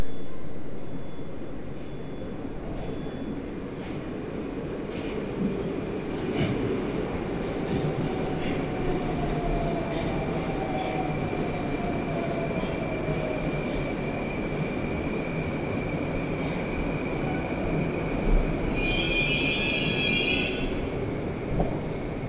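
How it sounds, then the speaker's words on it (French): Older Moscow metro train running, heard from inside a carriage: steady loud rumble and rattle of wheels on track, a rising squeal of wheels partway through and a sharp bright screech near the end. "on est à l'intérieur d'un des métros de Moscou, une des rames de métro"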